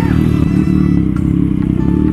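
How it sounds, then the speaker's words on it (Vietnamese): A motorbike engine idles and rumbles loudly and close as it rides into a busy street market in Hóc Môn, Saigon, a steady throbbing drone with light clatter around it. "đi xe mô tô vô chợ luôn hả?"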